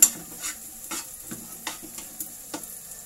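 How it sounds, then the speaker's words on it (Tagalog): Garlic and onion sauté in a pan for chicken adobo, giving a steady close sizzle broken by several distinct scraping stirs, with no talking. "Hintayin muna natin maging brown yung garlic."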